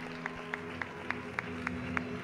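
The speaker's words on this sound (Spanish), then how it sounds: "recibiendo ya el aplauso de todas las personas que se han acercado hasta el Real Círculo de la Amistad" An audience at the Real Círculo de la Amistad claps for the Federación de Peñas 2019 queen candidates; the clapping is sparse, soft and distant, in a steady loose rhythm over a low background hum.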